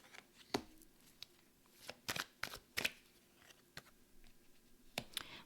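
Oracle cards are shuffled by hand in a run of crisp riffling bursts and sharp clicks spread irregularly across several seconds. The handling is close and fairly quiet over a hushed room, with no talking.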